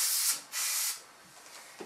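Airbrush spraying light brown paint on a caricature, two short close bursts of airy hiss followed by fainter trailing sprays and quiet hiss.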